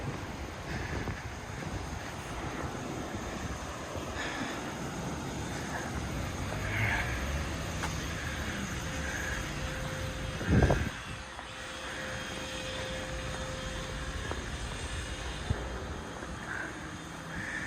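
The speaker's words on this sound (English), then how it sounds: "It gets really noisy walking across this bridge up here when the trains go by." Trains crossing an elevated trestle bridge overhead on a walk from Juso to Nakatsu, a loud, steady roar with windy rumble that fills the whole stretch, swelling briefly near the middle.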